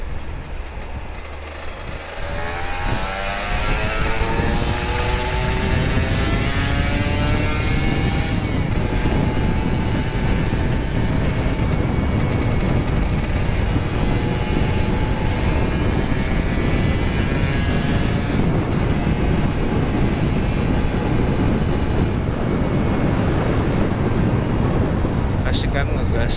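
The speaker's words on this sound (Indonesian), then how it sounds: "Gokil emang digasin terus ninjanya." An old Kawasaki Ninja RR 150 motorcycle engine is revved repeatedly, its loud, continuous whine climbing and sustaining close by, with a voice talking over it.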